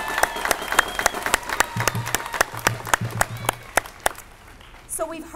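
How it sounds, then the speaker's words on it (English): At a PTA event, the audience gives a round of applause that comes across as sparse, sharp claps, fairly close and uneven, with a low voice murmuring partway through before it tapers off. "Let's give all of those speakers a round of applause."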